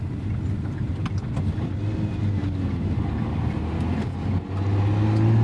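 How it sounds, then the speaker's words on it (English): A 2024 Lotus Emira V6 with manual transmission hums at low idle with its exhaust valves closed, a steady deep drone with slight rumble, growing a little louder near the end. "we have the exhaust valves closed, and the throttle response is a lot lazier."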